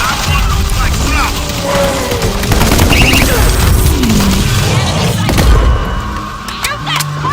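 Gunfire fills a chaotic battle in the video game World War Z Aftermath, with rapid bursts and booms over dense background noise and no clear voices.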